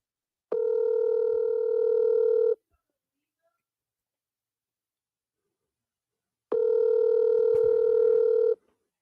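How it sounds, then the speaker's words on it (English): Two long, steady telephone ringback tones sound during an outgoing call, each about two seconds, separated by a long silent gap, clear and close with no talk over them. "I'm gonna call my boy real quick."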